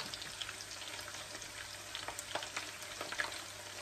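Squid fries in a pan for adobong pusit, giving a steady, close sizzle with scattered small pops and spatters throughout, and no talking.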